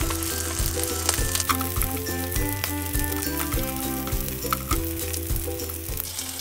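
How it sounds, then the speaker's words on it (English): Salmon belly crisping in a hot pan, a continuous close hiss and crackle of frying fat with a few scattered pops, steady throughout. "I'm cooking crispy salmon belly."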